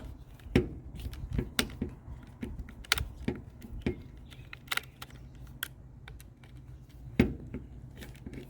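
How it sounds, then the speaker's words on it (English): Small screws being worked loose from a Carisma Racing M40-S Bug-E RC car, with sharp metallic clicks and light taps of a driver against plastic and metal parts, irregular and close-up, no talking. "So now just gotta take these two"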